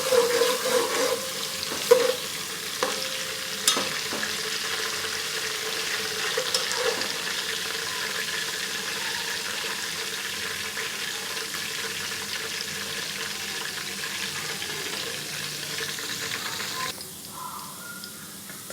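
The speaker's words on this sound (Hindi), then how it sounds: "सबसे पहले ऑयल गर्म करके इसमें जाएगा अदरक, ज़ीरा और साबुत काली मिर्च। फ्राई करेंगे।" Ginger, cumin and whole black pepper frying in hot oil for dhaba-style chicken karahi, a continuous close crackling sizzle with scattered spatters and a few utensil taps, easing slightly near the end.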